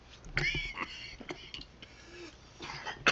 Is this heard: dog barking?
no